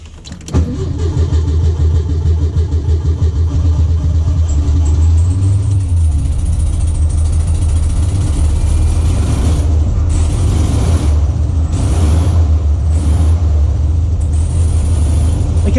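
A home-built Volkswagen Beetle engine cranks and catches, then runs loud and steady close by with a throbbing air-cooled idle and a few revs rising and falling.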